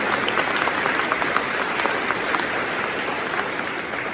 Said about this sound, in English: Let's give Mr. Sid Atkins a round of applause